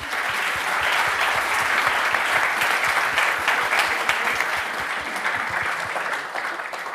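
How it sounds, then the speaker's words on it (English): Sustained, dense audience applause at a European policy forum in Vienna, steady and loud throughout after a discussion on EU security and defense, tapering slightly near the end. "So join me in giving a big round of applause to our three speakers."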